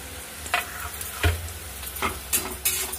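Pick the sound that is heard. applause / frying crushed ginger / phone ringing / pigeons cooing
frying crushed ginger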